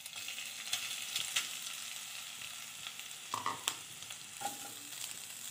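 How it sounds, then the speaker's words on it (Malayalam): Grated coconut frying in ghee in a pan, a faint steady sizzle broken by occasional scraping stirs and light clicks of a spoon. "ഇനി നമുക്കതിലേക്ക് ആ നെയ്യ് ചൂടായ ശേഷം അതിലേക്ക് 1 കപ്പ് തേങ്ങാ ചിരണ്ടയെ ചേർത്ത് കൊടുക്കാം."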